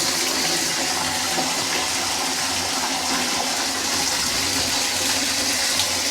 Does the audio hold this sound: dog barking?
no